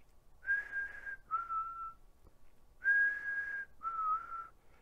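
A person whistles an imitation of a chickadee call: two clear two-note phrases, each a higher held tone then a slightly lower one, repeated after a short pause, close and alone.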